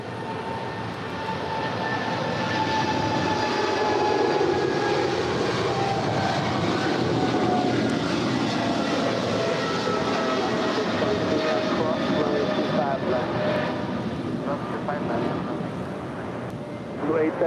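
A Boeing 747-8 Polar Air Cargo jet at LAX, bound for Seoul, gives off a steady, loud broadband roar that holds for the whole stretch with a faint tonal whine riding on top.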